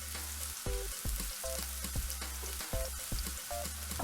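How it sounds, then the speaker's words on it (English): Onions brown in a pan with two tablespoons of hot olive oil, sizzling steadily and loudly up close, broken by occasional stirring scrapes and no voices. "heat a pan with 2 tablespoons of olive oil, then add just your onions to brown for a few minutes"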